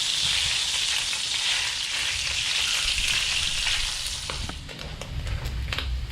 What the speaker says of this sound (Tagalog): Prito na lang natin para maging golden brown.